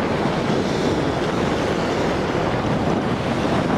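Ocean surf breaking at the water's edge on a Long Beach shore, a steady, continuous roar of waves washing in with wind noise on the microphone, loud and close with no talk.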